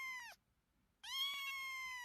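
A kitten gives two loud, close meows, a short one and then a longer drawn-out one after a brief pause.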